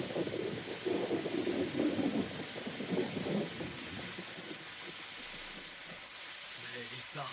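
Rain and rolling thunder from a French-dubbed Tom Sawyer cartoon, a steady wash of downpour with a loud low rumble in the first few seconds that fades into softer continuous rain.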